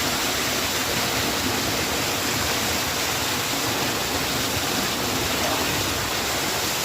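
A small waterfall near a village gives a steady, dense roar of falling water, close and unbroken throughout with no voices.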